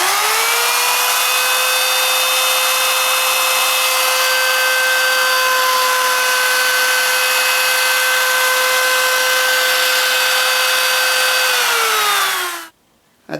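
A power router cuts wood along a template, a loud, steady, close high whine that holds for about twelve seconds, then spins down and stops abruptly, with no talking.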